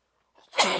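A single sharp sneeze with a brief intake of breath before it, close and loud in an otherwise quiet room.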